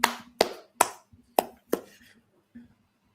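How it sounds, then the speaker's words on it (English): One person claps by hand, five sharp, close claps in an uneven rhythm followed by a softer sixth, in a quiet room. "I'm clapping just like The Rock did with the shades."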